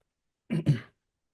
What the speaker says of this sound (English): Sorry if I keep clearing my throat.